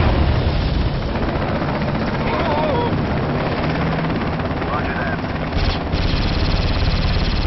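Helicopter in a military shooter video game, a steady loud rotor and engine roar that fills the whole stretch without breaks, with speech mixed in underneath.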